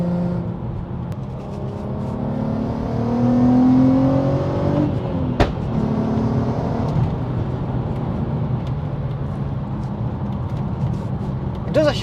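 A Stage 2 tuned VW Golf R32 MKV, heard from inside the cabin, pulls with a steady engine drone that rises as it accelerates, then settles into a sustained hum with road noise.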